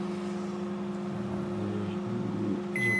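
Panasonic inverter microwave oven with its cooling fan still running after the heating stops, a steady low hum with a mechanical whir underneath and a brief higher beep near the end, no talking.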